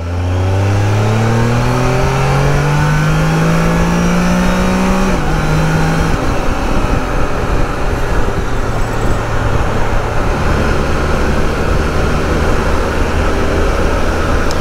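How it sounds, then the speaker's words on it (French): A Can-Am Spyder RT three-wheeled motorcycle accelerating hard, its engine note climbing steeply through the gears with one shift midway, then settling into a loud, steady roar with strong wind and road rush; no talk. "se faire une dernière grosse accélération juste pour le plaisir"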